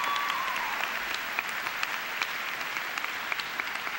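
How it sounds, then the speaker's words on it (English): Warm audience applause at a College of Saint Benedict commencement welcoming a graduate, a continuous crowd clapping wash with occasional sharper individual claps popping out, heard in a large hall. "Please join me in welcoming Emily with a warm round of applause."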